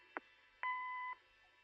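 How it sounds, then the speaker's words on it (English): In the Kathy Rain video game, an answering machine gives a short electronic blip, then a steady, clean half-second beep that cuts off into quiet. "Leave a message after the beep"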